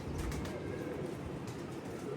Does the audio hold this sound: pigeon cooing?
yes